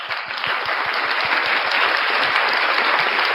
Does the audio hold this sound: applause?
yes